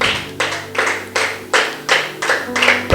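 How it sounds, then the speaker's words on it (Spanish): Church congregation clapping hands together in a steady, roughly even rhythm of about eight claps, loud and close, with a low hum of organ or music sustained underneath. "Puede sentarse y dele palmas al Señor"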